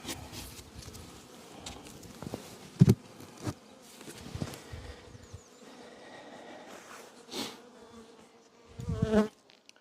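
Soft, steady buzzing of a queenless honeybee colony around its hive, quiet and close, with occasional knocks and rustles from handling breaking through the hum.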